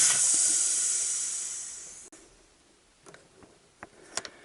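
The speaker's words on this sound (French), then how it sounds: "Alors j'enlève la pression." A cooling system pressure tester on a car's coolant circuit releases its pressure during a leak test. It makes a loud, close hiss that fades over about two seconds, followed by a few faint clicks.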